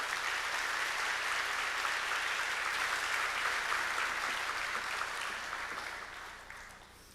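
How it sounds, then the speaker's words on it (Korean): A church congregation at a Sunday worship service applauds warmly as a theology professor steps up to preach, sustained even clapping that fades slightly toward the end. "우리 교수님 나오실 때 큰 박수로 우리 사랑의 마음을 드리도록 하겠습니다"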